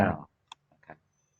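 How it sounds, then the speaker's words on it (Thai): Shift and F9 keys on a computer keyboard are pressed, giving two or three soft, quick plastic clicks in near silence. "แล้วก็กดชิปที่คีย์บอร์ด ตามด้วย F9"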